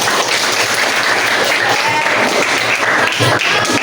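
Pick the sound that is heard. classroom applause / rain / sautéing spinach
classroom applause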